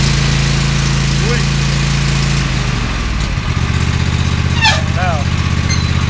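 Troy-Bilt Super Bronco 50 XP riding lawn mower engine, loud and steady at close range, shifting tone partway through as it settles, with someone talking over it.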